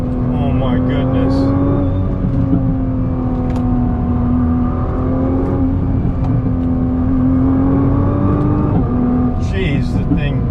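A Nissan GT-R R35 pulls hard in second gear from around 3,000 RPM, its engine note a loud, steady, rising drone heard close from inside the car.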